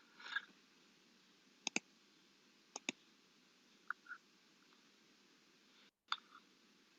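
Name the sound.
mouse double-clicking to open MATLAB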